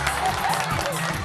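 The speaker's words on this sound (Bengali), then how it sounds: "হাততালি" Audience clapping briefly in a studio for a children's comedy show, a short dense burst of applause with a voice over it.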